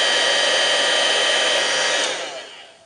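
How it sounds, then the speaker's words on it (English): A heat gun melting embossing powder on a card gives a steady, close, roaring hiss that fades away over the final second as it is switched off. "as soon as it goes shiny like that, you move the heat gun onto the next place."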